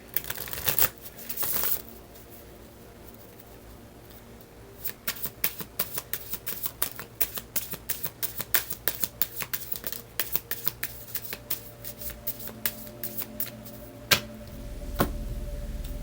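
A Spirit Junkie oracle card deck is shuffled up close, producing a long run of quick, crisp riffling snaps that come in bursts, with a few handling thumps at the start and a soft rustle at the end.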